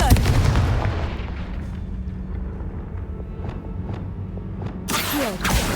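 A Confringo blasting curse explodes in Hogwarts Legacy, a loud booming burst at the start that rumbles and decays over several seconds, with a second crackling blast rising near the end.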